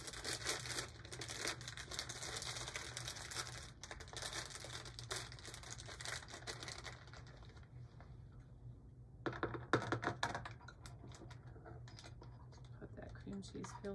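Cream cheese filling is spooned and pressed into a plastic piping bag, giving quiet close crinkles, rustles and soft scraping clicks that come in busy bursts, then thin out and pick up again.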